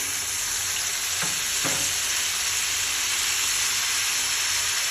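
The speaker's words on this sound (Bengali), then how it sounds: "এটাকে বেশ ভালো মতো লাল করে ভেজে নেব।" Crabs fry in a hot pan with a constant loud hissing sizzle, a couple of soft scraping stirs early on, close up and without any talking.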